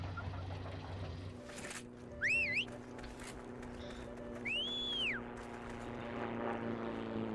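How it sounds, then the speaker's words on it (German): A propeller airplane flies over a battlefield in the World War II shooter Heroes & Generals. Its steady engine drone sits under other game sounds, with two short rising, whistling chirps cutting in. "Da kommt ein Flugzeug."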